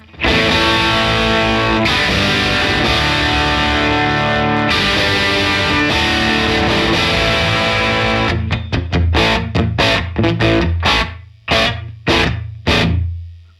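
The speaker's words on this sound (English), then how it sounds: "Love that room reverb" Distorted electric guitar chords with a British humbucker ring out through a Universal Audio Ruby pedal's room reverb, then sharp rhythmic strums and stabs follow, loud and upfront.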